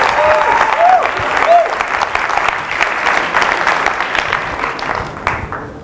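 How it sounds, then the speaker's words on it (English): Audience applause at a HAW Talks event, a full, even round of clapping that holds steady and fades near the end, with a few faint tonal squeaks early on. "Another round of applause, please, everybody, for Zina for such a powerful talk"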